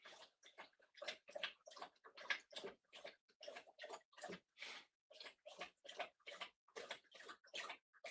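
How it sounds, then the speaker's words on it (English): A pet dog laps water in a quick, steady rhythm, about two to three laps per second. The slurping splashes are faint and close by, run unbroken for eight seconds, and no one speaks. "There's my Henny drinking the Atlantic Ocean"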